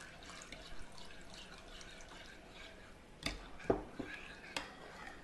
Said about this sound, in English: we're gonna add about 1 1/4 cups of water to this